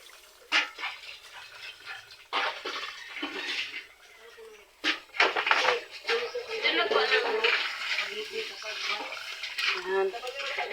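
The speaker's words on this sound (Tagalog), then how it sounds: "And then, lagay namin yung gata." Coconut milk poured onto a plate of cassava with sugar for ginataang kamoteng kahoy gives soft, wet splashing in several bursts, with someone talking over and between the pours.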